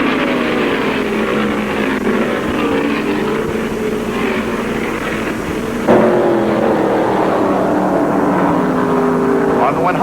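Stock cars roar down the long backstretch at the 1974 World 600, a dense, steady engine drone with shifting pitch and a sudden louder surge near the end, under a commentator's voice.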